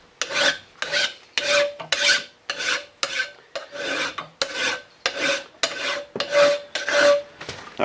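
A hand file rasps excess silver solder off the back of a tool bit during an ATV Mattracks repair: about a dozen even, rhythmic strokes, close and loud, each a gritty scrape with no voices.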